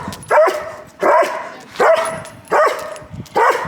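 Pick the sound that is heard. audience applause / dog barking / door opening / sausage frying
dog barking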